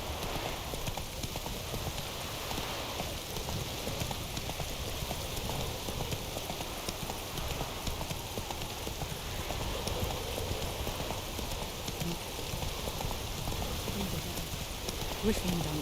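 Roach, a horse in The Witcher 3, gallops with steady, rapid clip-clopping hooves throughout, over a constant wash of wind or rain ambience.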